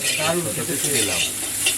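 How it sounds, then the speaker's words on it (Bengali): Constant crackling sizzle of cauliflower frying in hot oil, close up and fairly loud, with a few stirring scrapes. "লাল লাল করে ভেজে নিচ্ছি"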